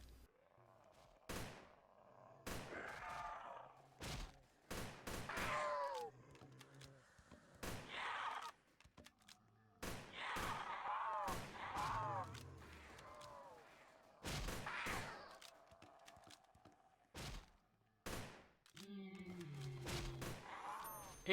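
An Abakan rifle in the Roblox shooter Project Lazarus fires sharp, distinct bursts spaced every couple of seconds, with game sound effects in between and a brief pause near the end.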